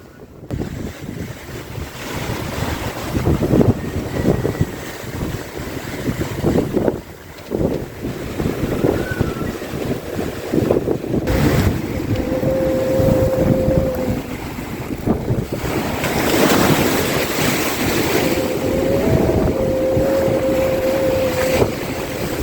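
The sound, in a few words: sailboat at sea in strong wind and big waves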